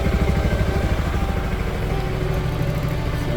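A modified Yamaha XMAX scooter idles at about 1500 rpm, a close, steady low throbbing engine pulse with a slightly uneven rhythm, heard alone without talk.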